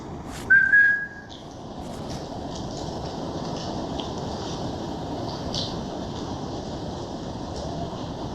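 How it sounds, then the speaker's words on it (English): A single short whistle rings out inside a railway tunnel, brief and fairly loud, then fades into a steady, broad background rumble that continues alone. "Could you perhaps try and do another whistle for us if you've not done one already?"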